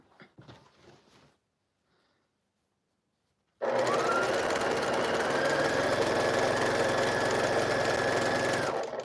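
Sewing machine running while quilting, with the machine sliding on its mat; brief murmuring talk first, then near silence, then a loud steady motor whir with a whining tone that continues to the end.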